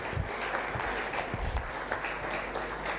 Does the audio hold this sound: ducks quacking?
no